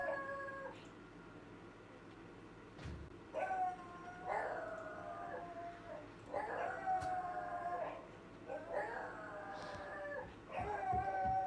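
Several dogs howl in long, wavering, overlapping bursts that rise and fall at close range, with brief pauses between the howling rounds.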